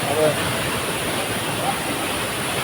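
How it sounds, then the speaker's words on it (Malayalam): Constant rushing water roars as a steady, broad wash of noise, like a nearby waterfall, with no distinct breaks. "ഇത് വെള്ളച്ചാട്ടല്ലേ"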